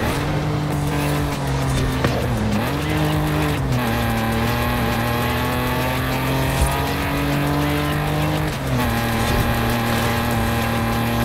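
Jaguar SVR engine in Forza Horizon 5, a loud, steady, smooth-running drone with strong harmonic hum, dipping briefly twice as revs drop and recover, with no talk over it.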